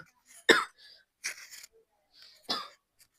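Someone with a cold coughing, three hoarse, close coughs spaced about a second apart, with a short breathy throat sound between them.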